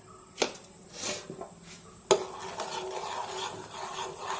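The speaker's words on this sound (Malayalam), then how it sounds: "നന്നായി ഇളക്കി പഞ്ചസാരയുമായിട്ട് ചായ യോജിപ്പിക്കുക" A spoon stirs tea with sugar in a pot or cup, making soft scraping, rubbing strokes with a couple of sharper clinks, close and fairly quiet.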